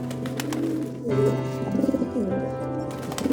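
Pigeons coo close by in a steady run of soft, throaty, rolling calls that repeat in overlapping bursts, with no one speaking.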